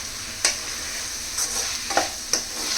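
Chicken keema with chilli powder being stirred in a hot pan: a steady sizzle with three or four sharp scraping strokes of the spoon, close and moderately loud, no voices.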